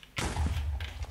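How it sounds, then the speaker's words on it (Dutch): A creeper explodes in the Minecraft video game with a sudden loud thudding burst that rumbles low and fades over about a second, heard close and alone. "Ik hoor de creeper explosie."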